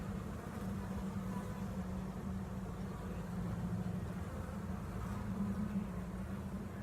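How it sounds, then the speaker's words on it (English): Honeybees in an opened backyard hive, with young bees crawling over the comb, make a continuous low, droning hum that stays even and close throughout. "There's some tiny, look, they're very little still bees moving around."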